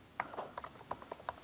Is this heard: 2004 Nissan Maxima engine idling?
no